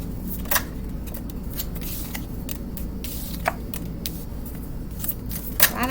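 Tarot cards are shuffled in repeated soft riffles and crisp flicks, with a few sharper snaps, over a low steady background hum.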